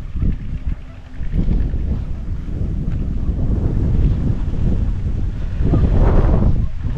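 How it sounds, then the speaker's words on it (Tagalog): Wind gusts outdoors across an onion field during sowing, a steady low rumble buffeting the microphone with swelling gusts, loudest near the end, continuous and close. "Medyo mahangin."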